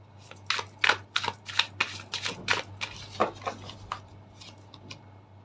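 Deck of tarot cards being shuffled by hand, a close run of quick, crisp riffling and flapping bursts with brief pauses between them, alone over a low steady hum.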